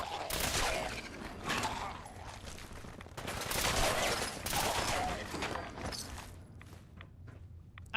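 Gunfire in the video game Fallout 4: rapid volleys of sharp shots in dense bursts, loud and close, with a few brief pauses and a quieter trailing stretch near the end.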